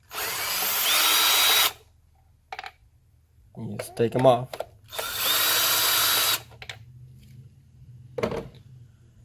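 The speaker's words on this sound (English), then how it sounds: "it goes faster with the drill with an attachment" A power drill fitted with a 10mm socket spins off bolts on a Mitsubishi Lancer engine in two sustained whirring bursts, close and loud, with someone speaking briefly between them.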